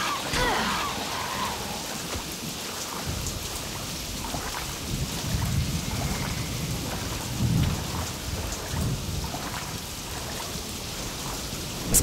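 Rain pours steadily in the King Kong video game while thunder rumbles low and heavy, a constant hiss of rainfall over deep rolling booms.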